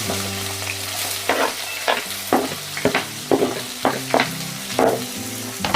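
Onion frying in oil with curry leaves for Maharashtrian poha, a close steady sizzle broken by repeated rhythmic spatula scrapes and stirring clatter, with no talking.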